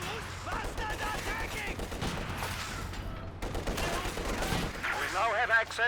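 Machine gun fire in a real-time strategy video game match, repeated bursts of rattling gunfire amid battle noise, with a commentator talking over it.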